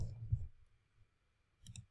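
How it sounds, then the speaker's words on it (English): A computer keyboard key is pressed while working in schematic design software, one quick, faint double click after a quiet pause, with a brief murmur of voice at the start. "Hit T on the keyboard to add text."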